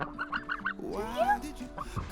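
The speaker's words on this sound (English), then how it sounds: "it looks like all the chickens are coming too" Chickens clucking and squawking close by, a few short clucks followed by a longer drawn-out call, with some background noise.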